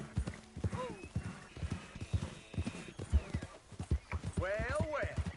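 Horse hooves clip-clop steadily and close by in Red Dead Redemption 2, with a whinny toward the end, while characters talk over the hoofbeats.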